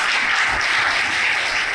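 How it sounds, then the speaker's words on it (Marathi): Students applaud at a 2025 budget talk: a dense, loud burst of many hands clapping at once, sustained evenly for under two seconds with no voices. "पण त्याच्यासाठी एक जोरदार टाळ्या वाजवा."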